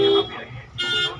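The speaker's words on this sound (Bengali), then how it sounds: "ধীরে ধীরে হর্ন মারো" A car horn sounds in two short honks near Howrah station in Ichapur traffic, fairly close, with a voice talking around them.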